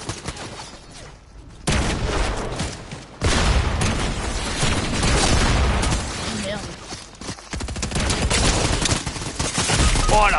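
Enemy gunfire crackles in a video game, bursts of rapid shots at fairly close range that swell and fade over about ten seconds, with a voice speaking at times.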